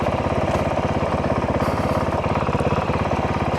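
A motorcycle fitted with a Taco Moto ECU runs loud and close, its engine throbbing in a steady, rapid pulse with slight throttle blips and no pauses.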